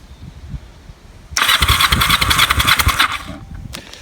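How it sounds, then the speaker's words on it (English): A Kawasaki EN450 motorcycle engine cranks on the starter for a compression test, a loud, even whirring churn that begins abruptly and runs for about two seconds before cutting off, with a faint click afterward. "Helps if I turn the engine on."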